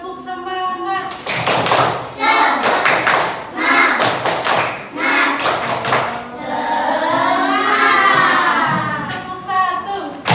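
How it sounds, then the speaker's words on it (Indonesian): A primary school class doing a rhythmic spirit clap chant, bursts of loud group clapping in patterned beats alternating with children chanting together, close and lively. "kita akan melakukan tepuk semangat"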